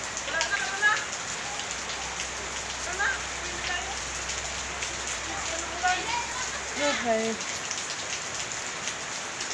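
Heavy rain pouring down in a steady, dense hiss, with occasional voices talking beneath it.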